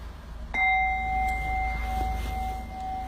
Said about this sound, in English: So whenever I ring the bell, it means silence.